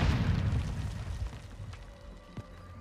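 An auto-detonating explosive in the video game Warzone (Modern Warfare 2) gives a deep boom with a rumbling tail, then a sharp pop near the end, all under a steady game-sound bed.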